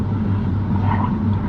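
Audi S3 driving on the road, a steady low engine rumble and drone with road noise, heard from inside the car, with no clear gear changes.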